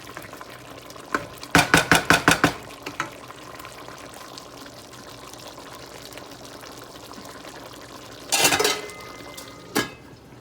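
Chicken karahi is stirred and fried in a pan, with a quick run of about seven loud spatula clanks, a steady low sizzle underneath, then another clattering scrape and a final knock.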